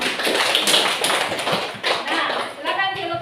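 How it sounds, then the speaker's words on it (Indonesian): Classroom applause for a student group during a teaching-practice lesson, a dense stretch of clapping from pupils with voices mixed in, steady and fairly loud throughout. "Kasih tepuk tangan kelompok 1."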